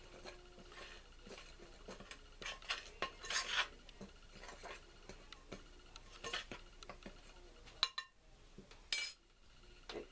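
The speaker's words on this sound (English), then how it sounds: "Now we're going to give this a little bit of a stir here before we start adding the liquids" Whole wheat flour stirred in a bowl with a utensil, giving soft scraping rubs and light clinks against the bowl in irregular bursts, close and fairly quiet.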